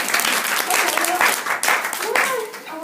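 A crowd applauds warmly and steadily throughout at a product demo, with a brief spoken word breaking in partway through the clapping.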